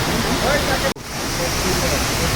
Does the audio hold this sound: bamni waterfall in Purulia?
yes